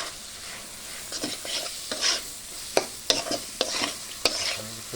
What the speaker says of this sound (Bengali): ভেন্ডিগুলো এই দিকে দিয়ে দিতে হবে, দিয়ে ভালোভাবে কষায় নিতে হবে।